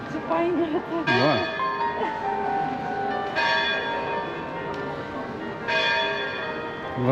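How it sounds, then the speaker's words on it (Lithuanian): A tinny church bell rings in repeated strokes in a town square in Konstanz, Germany. The bright, metallic clangs ring out under nearby conversation. "Varpas kaip iš skardos."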